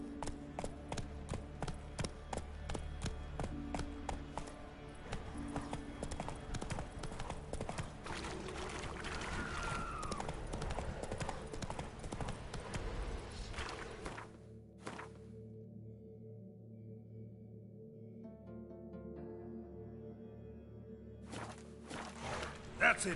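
Roach the horse gallops in The Witcher 3, with fast, rhythmic hoof clip-clops close by for most of the clip under a voice talking, then breaking off into quieter ambient sound.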